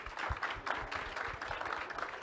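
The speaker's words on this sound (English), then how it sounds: "let's give everyone a big round of applause" An audience applauds at the close of a climate pledge panel on Scope 3 emissions, brisk rhythmic clapping from a modest crowd, fairly close and even throughout.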